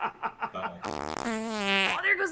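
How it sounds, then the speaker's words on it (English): A fart pig toy lets out a long, loud, wavering squeaky fart noise after a few short puffs, heard close amid talk and light laughter. "there goes that fart pig again"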